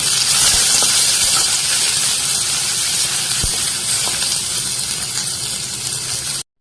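Spice paste added to hot oil in a frying pan, with fried garlic and onion, sizzles in a strong, steady hiss close by, with a few faint clicks, and then cuts off abruptly.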